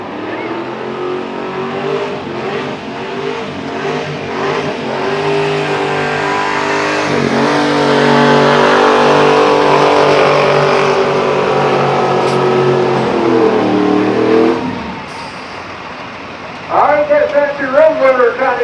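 A pulling truck's engine roars at a truck pull as it drags the sled down the track, a loud, sustained harmonic howl that climbs and holds for over ten seconds before cutting off, followed by a few short revs.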